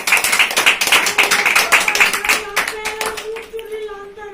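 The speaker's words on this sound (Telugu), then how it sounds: "గట్టిగా చప్పట్లు కొడదామా" A group claps together in a steady, rhythmic beat at a religious gathering, loud and close, then the clapping thins out as a voice speaks over the tail end.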